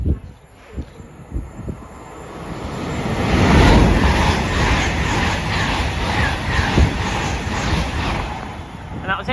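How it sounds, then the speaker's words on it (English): An LNER passenger service from Edinburgh Waverley to London King's Cross passes through Prestonpans, a broad rumbling wash of wheels and wind that swells midway and stays loud and steady to the end. "Passing through now is an LNER service from Edinburgh Waverley to London King's Cross"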